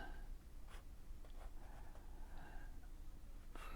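A pen sketches on paper in a very quiet urban sketching session, with faint, scattered scratchy strokes over a low background hiss.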